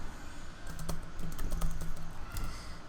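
Fast, close typing on a computer keyboard while PHP code is written, a dense patter of light key clicks over a soft background hum with no speech.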